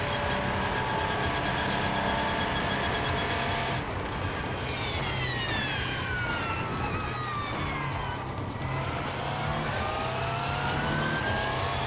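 Porsche race cars approach in the iRacing simulator at Le Mans while the player drives a downforce car. A steady, loud engine drone runs throughout, and rising whining tones sweep past as faster cars close in and go by.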